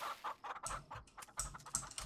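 Chickens in the farming video game Farm Together cluck in a rapid, busy string of short calls, with light keyboard typing underneath.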